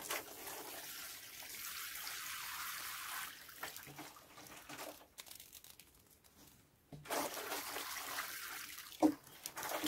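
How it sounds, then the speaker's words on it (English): Honeysuckle cuttings in a drained pot are watered, with a soft steady hiss of water and light splashing and rustling, a brief pause midway, then more trickling. "I'm going to go ahead and water them."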